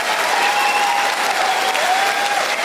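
A comedy show audience gives a short burst of steady, even applause. It fills the whole moment at moderate volume, with no speech over it.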